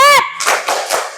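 A class of children performs the rhythmic spirit clap, a few quick sharp claps mixed with chanting young voices, close and brief, right after a short whistle-like tone.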